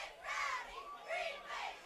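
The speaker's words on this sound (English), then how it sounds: "Green Wave cheerleaders trying to get the crowd going" Crowd noise at a high school varsity football game between Abington and Norwell, with swelling shouts and cheers rising in two loud waves while cheerleaders try to rouse the stands.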